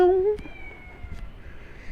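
A cat gives one short, high meow at the start, close by on a street in Paphos Old Town, Cyprus, followed by faint background hum and soft ambient noise.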